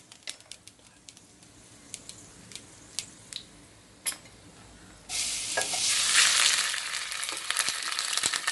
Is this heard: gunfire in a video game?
no